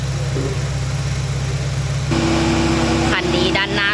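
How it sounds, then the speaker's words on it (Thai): A 2013 Honda Accord with about 152,000 km idles smoothly while its AC compressor runs. The engine makes a steady close hum with tonal whine, and the tone shifts midway as the compressor load changes. A voice talks over it briefly near the end. "คอมแอร์ทำงานไม่ฉุดกำลังเครื่องยนต์ค่ะ เครื่องยนต์เดินเรียบ"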